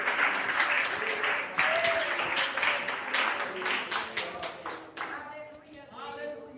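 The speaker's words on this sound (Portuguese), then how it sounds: "Palmas para Jesus." Congregation clapping hands together during a Brazilian evangelical church service, a dense, steady burst of applause with cheering voices mixed in, tapering off toward the end.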